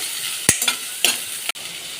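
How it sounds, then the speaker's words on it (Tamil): Onions and curry leaves sizzle steadily in oil in a pan while a spoon stirs and scrapes a few times, with sharp clinks against the metal. "வெங்காயம் சேர்த்து நல்லா வதக்கி விட்டுக்கலாங்க"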